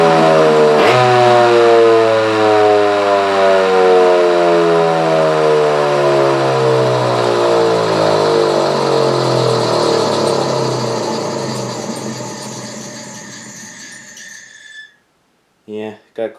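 An old electric fire station siren winds up and wails loud and close, its rising tones sweeping in a long continuous run before cutting off, followed by brief squeaks and clunks as it stops.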